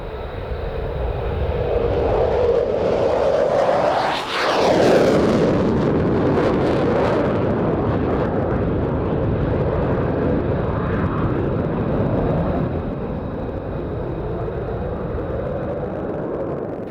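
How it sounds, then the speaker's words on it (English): Royal Danish Air Force F-16AM Fighting Falcon jet roaring through a solo airshow display at RIAT 2025, a loud sustained engine blast that sweeps past overhead with a sharp pitch shift, then rumbles on into the distance. "the Royal Danish Air Force's F-16AM Fighting Falcon solo display"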